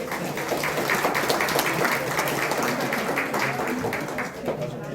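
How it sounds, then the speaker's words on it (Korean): Audience applause at a national assembly forum on a dental research institute, a dense steady patter of clapping filling the room, moderately loud, fading slightly near the end. "여러분 다시 한번 큰 박수 부탁드립니다."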